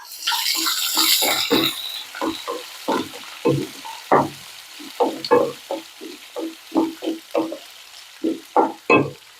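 Ground onion paste with garlic cloves and a piece of ginger frying in a pan for chutney. A spoon stirs in a steady run of rhythmic scraping strokes over a soft background sizzle, with no talking.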